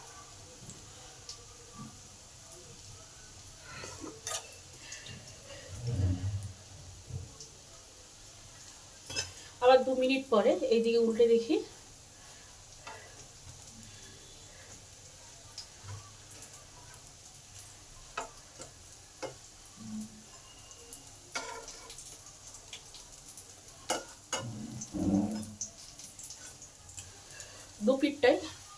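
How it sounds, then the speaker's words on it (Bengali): Jackfruit seed kebabs fry in a pan over a low gas flame, a faint, soft sizzle broken by occasional scrapes and clinks of a utensil, with someone talking in between. "গ্যাসটা সিমে রেখে ভাজতে হবে, যাতে ভেতর পর্যন্ত ভাজা হয়"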